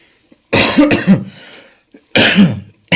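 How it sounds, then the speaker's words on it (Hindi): Three harsh coughs, close and loud: two in quick succession, a pause, then another, with the start of a fourth cut off at the end. "सॉरी भाई, खांसी हो रखी है"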